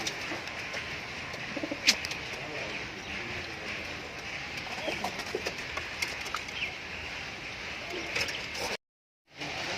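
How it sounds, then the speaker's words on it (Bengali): Girbaz high flyer pigeons coo softly and intermittently, with occasional wing flaps and faint voices in the background, before a brief silent gap near the end. "এটা গিরবাজ পায়রা আছে।"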